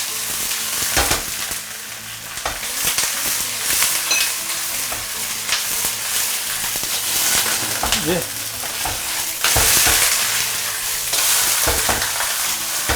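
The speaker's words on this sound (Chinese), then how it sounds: "让两面给它煎一煎。" A fish head sizzles and fries in lard and mixed oil in a hot wok, browning on both sides; steady loud crackling spits with occasional bursts as it is turned, close up, no talk.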